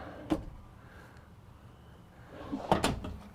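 Two quick wooden knocks of drawers being opened and shut in a 2020 Renegade Valencia 35MB motorhome bedroom, close by in a quiet room.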